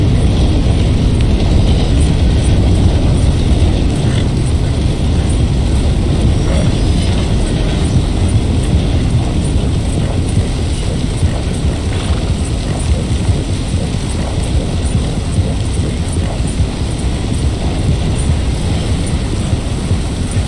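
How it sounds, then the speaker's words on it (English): A train passes in the game Red Dead Redemption 2, a steady, loud rumbling roar of rolling wheels and cars that holds evenly for about twenty seconds with no voices. "Let the train pass first,"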